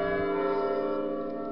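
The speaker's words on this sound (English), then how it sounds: "The bells are ringing." Church bells of Lincoln Cathedral ring out loud and full, their layered tones overlapping in a continuous peal without any talking.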